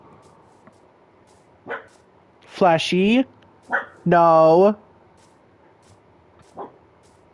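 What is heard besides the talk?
pet dog barking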